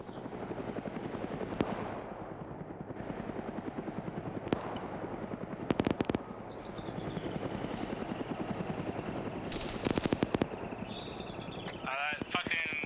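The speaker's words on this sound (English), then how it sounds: "That fucking helicopter's engaging us" A helicopter attacks in a military video game, its rotor thumping steadily and loudly throughout, with bursts of gunfire and sharp impacts while players talk over it.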